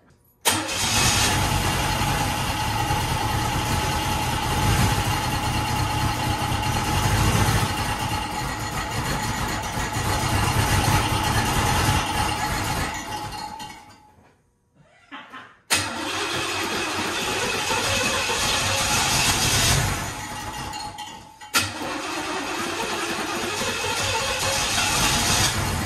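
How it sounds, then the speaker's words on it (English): A hopped-up 350 Chevy V8 in a Monte Carlo cranks to life and runs loud and close with repeated revving. It cuts out briefly and then restarts twice. "Why are you revving so much?"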